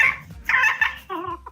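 Chickens raised on a rural farm clucking close by in a few quick throaty bursts, the last one a higher, drawn-out squawk.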